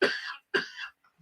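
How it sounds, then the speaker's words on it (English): Two close, sharp coughs from one person come in quick succession, each a harsh burst trailing off, followed by a brief faint sound and silence. "I just can't seem to quit coughing these days"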